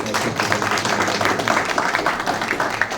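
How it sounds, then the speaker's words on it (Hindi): An audience in Indore gives a loud welcoming round of applause for a guest speaker. The clapping is thick and continuous throughout, with no talk over it. "सबसे पहले सर के लिए एक बार जोरदार तालियां"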